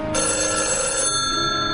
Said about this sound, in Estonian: Valdur, võta palun telefon.